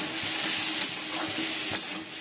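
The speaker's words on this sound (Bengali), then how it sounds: "আলু ভাজা বসে দিয়েছি" Potatoes fry in a pan with a steady, close broadband sizzle, and a couple of sharp stirring clicks cut through about a second apart.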